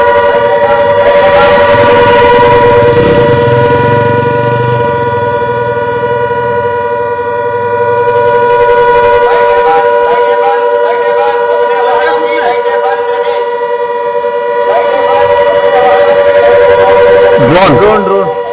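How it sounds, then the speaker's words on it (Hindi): Air raid siren wailing during a blackout at the Barmer border, a steady sustained tone holding for the whole stretch with a slight rise and fall, loud and continuous, with voices talking over it. "बड़ी खबर इस वक्त है जो कि सायरन की आवाज आप सुनिए।"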